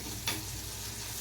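Green chillies frying in a pan, a soft continuous sizzle with a brief stirring scrape early on, close and fairly quiet.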